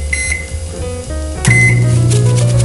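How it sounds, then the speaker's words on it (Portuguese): A microwave oven hums steadily while cooking eggs in a sealed plastic egg-cooker container, with a short beep near the start and another just before the loud, continuous low drone settles in. "É só você fechar, travar bem e levar ao micro-ondas."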